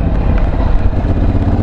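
A Cagiva Elefant 750 motorcycle engine runs loud and close while the rider weaves, its steady mid-pitched drone rising and falling slightly with the load changes.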